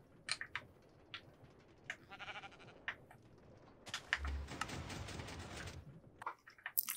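Several sheep in a Minecraft Bedrock Edition automatic wool farm give short, quiet bleats scattered among soft clicking, with one longer bleat near the middle.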